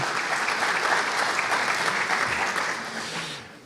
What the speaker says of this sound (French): un petit applaudissement pour M. Vogel